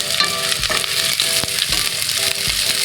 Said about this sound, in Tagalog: So, i-sauteed natin until golden brown para mas mabango guys.